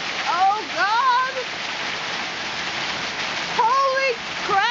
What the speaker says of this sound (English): Oh God, that's a lot of hail. Holy, it's raining with ice!